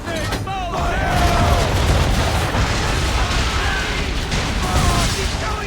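Ship cannons fire in a naval battle from the video game Assassin's Creed III, giving a dense, continuous barrage of booms and blasts over rumbling, with shouted voices over the roar throughout.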